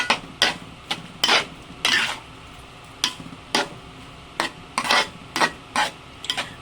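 A spoon scrapes and stirs dinuguan, a Filipino pork blood stew, in a pot, giving sharp, irregular clinks and scrapes in quick bursts over a faint background.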